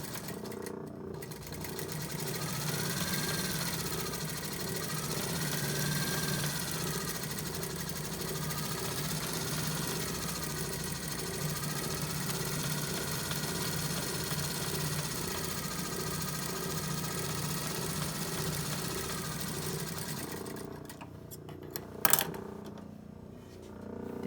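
A sewing machine runs nonstop, top stitching along a shirt edge with a steady, fast mechanical whir that holds at an even level for most of the stretch. It stops near the end, leaving a brief clatter and quiet.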